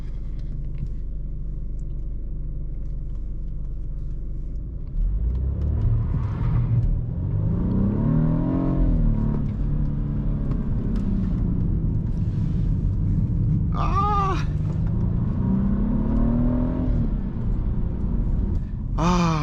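BMW F30 328i doing a launch-control start, engine rumbling then revving hard as the wheels spin, loud and close from inside the car, with short higher squeals near the end.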